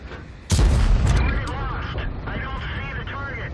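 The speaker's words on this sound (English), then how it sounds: "I'm going to be firing high explosive rounds at that E-75" A World of Tanks tank fires a high-explosive round in one sudden, loud boom, leaving a long rumbling decay while someone talks over the game sounds.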